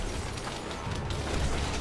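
A bomb blast in the video game Prototype 2 rumbles as a broad, noisy roar with crackling bursts, sustained at moderate level for a couple of seconds with no speech over it.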